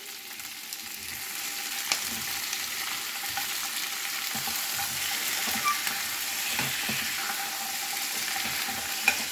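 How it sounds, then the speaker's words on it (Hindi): Capsicum, tomato and paneer frying in a kadai, giving a continuous close hiss with faint scrapes and small clicks throughout, with no talking. "अब इसमें हम डाल देंगे टमाटर और पनीर।"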